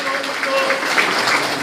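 Applause from the crowd at a civic group's founding ceremony, a short burst of massed clapping under and around a host's amplified voice in a hall.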